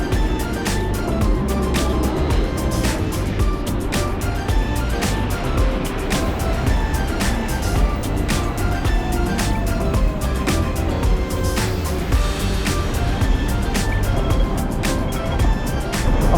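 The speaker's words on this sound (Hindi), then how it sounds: "दुनिया की सबसे पुरानी ट्रैम" A historic Hong Kong tram, the oldest still running, rolls along with a constant loud rumble and irregular rattling clicks and knocks from the car as it rides.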